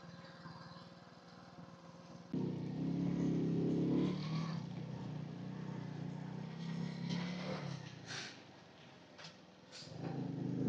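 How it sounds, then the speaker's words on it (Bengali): A tourist car climbing a mountain road in Pakistan, its engine a distant low drone that rises after a couple of seconds and holds steady, with wind buffeting and occasional sharp knocks. "ওই যে একটা গাড়ি লড়তেছে দেখছো"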